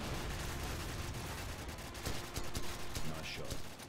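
Rapid gunfire crackles through a Call of Duty 4: Modern Warfare battle, dense bursts of shots and impacts stacking up under loud, continuous combat noise.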